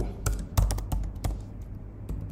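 Rapid computer keyboard typing while writing code for a Flutter list app, a burst of close, crisp key clicks with irregular spacing, loudest early and thinning out toward the end.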